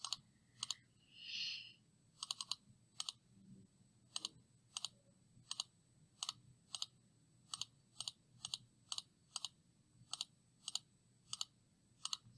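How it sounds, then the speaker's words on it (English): Calculator keys being tapped as numbers are entered into a matrix for a chi-square test, a steady run of sharp, evenly spaced clicks close by, with no talking. "we're just going to continue typing in our numbers"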